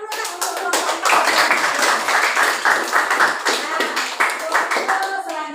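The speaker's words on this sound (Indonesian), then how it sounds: "tepuk tangan dulu nak untuk kelompok 4" Students in a classroom give a group a round of applause, with brisk, dense hand clapping that is close and lively and continues steadily without a pause.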